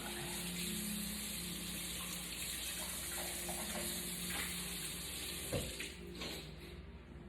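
Tap water runs steadily into a sink as an item is washed while making a beeswax candle, a faint continuous gush with a brief splash and clatter near the end and no talk.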